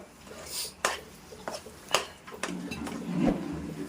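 Bobbatlu filling stirred in a pan, with scattered sharp scrapes and clinks of a utensil against the metal in an irregular rhythm, close and moderately loud, over a soft background.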